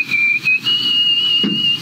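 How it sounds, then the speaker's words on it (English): A record-setting nose whistle, held as a loud, steady high-pitched tone that wavers slightly and breaks briefly a few times across nearly two seconds, close and alone. "A nose whistle? You mean like just whistling through your nose?"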